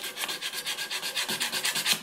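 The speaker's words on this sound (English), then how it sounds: "I'm just sanding with the grain to get rid of the rings" Sandpaper scrapes over a burr elm bowl in quick, even back-and-forth strokes with the grain, close up and continuous, with no voices.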